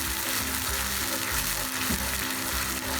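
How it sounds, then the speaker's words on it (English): Masala gravy for gatte and papad sabzi fries in ghee with a dense, continuous sizzle while being stirred, loud and close with faint scraping underneath. "We'll keep stirring it till it becomes a little thick"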